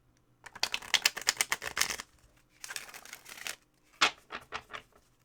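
Tarot cards are shuffled in three quick riffling bursts, a crisp fluttering patter up close, with short pauses between each riffle.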